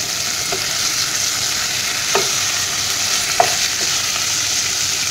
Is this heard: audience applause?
no